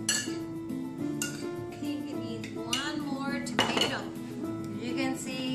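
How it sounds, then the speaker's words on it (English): Chopped onion and tomato being stirred together in a bowl for Guatemalan guacamole, with steady clinks and scrapes of a utensil against the dish while music plays beneath. "I'm going to get all these little pieces and mix that together"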